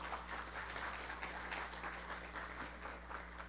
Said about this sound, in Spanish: por favor, un fuerte aplauso para nuestro invitado